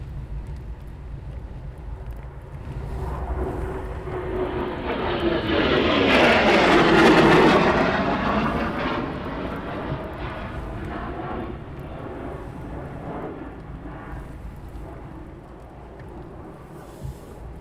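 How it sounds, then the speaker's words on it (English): A Eurofighter Typhoon jet passes overhead at RAF Coningsby, its broad engine roar swelling from a distant rumble to a loud, close peak and then fading slowly as it moves away, with no talking. "it is another Typhoon in the inbound. Going over the top any second"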